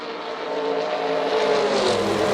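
Vintage racing cars from the golden age of motorsport roar in a steady, dense engine drone that swells slightly louder, with no voices over it.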